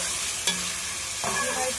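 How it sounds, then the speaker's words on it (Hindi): Chicken pieces frying in a pan with a spoonful of home-ground garlic-ginger paste, giving a steady close sizzle with a sharp clink of stirring and a louder burst of crackling near the end. "हम इसको फ्राई करना है, ताकि हमारा चिकन सारा गल जाए"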